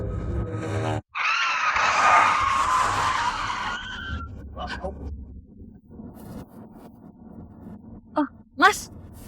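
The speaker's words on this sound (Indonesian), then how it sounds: "Mas, itu kayaknya mobil security nabrak trotoar deh." A security car skids loudly for several seconds, a long tyre screech, then fades into rumbling with faint scattered bumps. Brief sharp squeals follow near the end.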